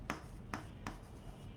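Several distinct chalk strokes tapped and scratched onto a board, at irregular intervals, close and fairly quiet.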